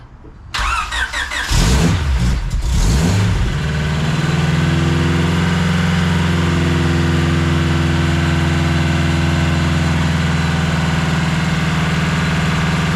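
An LS VTEC swapped Honda Civic EG cranks briefly, fires up with a revving flare, then settles into a steady, loud idle close by with a deep, even hum.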